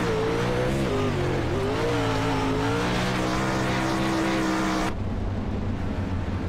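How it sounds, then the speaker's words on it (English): A 360 winged sprint car engine roars continuously on board during a dirt track race at Eldora, the loud, harsh tone rising and falling with throttle before dropping abruptly to a lower idle-like drone near the end. "let's try to see if we can go on board and listen to that engine"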